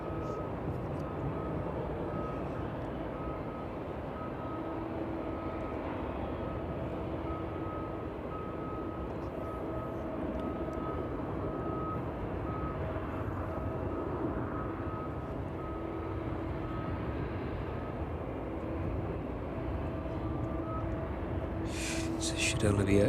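Jet airliner departing East Midlands Airport in the evening and climbing away on a short flight to Leipzig, a steady distant engine roar holding level throughout with faint tonal whine, swelling slightly at the end.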